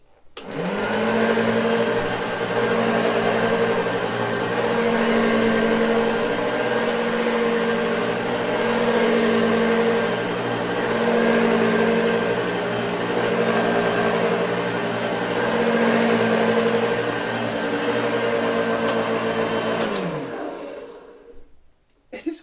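A refurbished Hoover Junior U1104 upright vacuum cleaner with an activated brush roll runs steadily at close range, a loud, continuous motor whine with a low hum beneath it, then winds down at the end.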